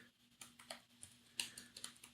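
Typing on the keyboard of a Slimbook PRO X Linux laptop, a quick run of light, soft key clicks at close range, faint and alone.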